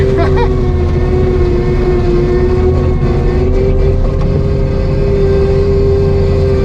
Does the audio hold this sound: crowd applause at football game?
no